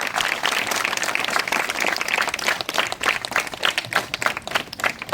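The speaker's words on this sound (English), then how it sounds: "Please give a round of applause, children." Children at an outdoor environment-day felicitation ceremony clap together in dense, continuous applause that holds steady for several seconds, then thins into a looser, uneven patter toward the end.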